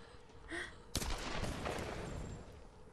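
A single sharp gunshot cracks from a headshot in the Tomb Raider video game, followed by a lingering rumbling echo and scattered game noise.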